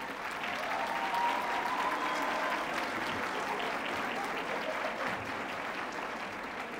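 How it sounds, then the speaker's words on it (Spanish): At an interdisciplinary arts and humanities congress, an audience gives teachers a quiet, distant round of applause. The clapping is steady and fairly even throughout, with a faint murmur of the crowd underneath. "y al maestro Pedro, creo que los quieren ver y aplaudirles"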